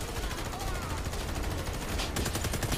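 Shotgun fire in the video game Warface, a loud dense burst of blasts over steady game noise, with a sharper report near the end.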